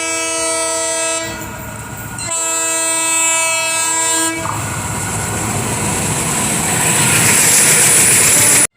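At a railway station, a train horn blows loud, sustained blasts twice with a short gap between them. Then the rumble and clatter of the moving train builds and grows louder until an abrupt cut at the end.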